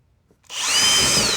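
A power drill spins up after a brief quiet moment and whines loudly and steadily, close by, driving screws into thin paneling over insulation.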